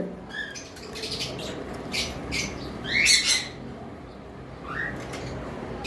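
Caged cockatiels and other pet birds for sale give scattered close squawks and short chirping calls over a steady low background hum, with no talking heard.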